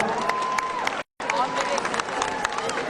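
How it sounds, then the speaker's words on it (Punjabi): Audience clapping at an honoring ceremony on stage, dense continuous applause heard close, cut by a brief silent gap before the clapping resumes with crowd noise. "ਜ਼ੋਰਦਾਰ ਤਾੜੀਆਂ"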